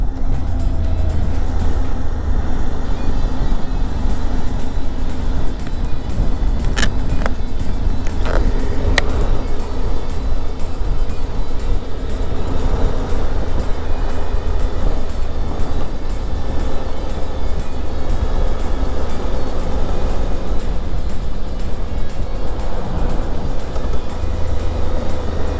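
A car rolls along a road just off the motorway near Pokeno, with steady, loud engine and road noise throughout and a few faint clicks, no one speaking.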